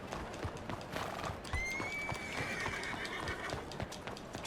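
A horse in the video game Red Dead Redemption 2 clip-clops along with soft, steady hoofbeats, and a long, clear whinny rises midway over a faint outdoor ambience.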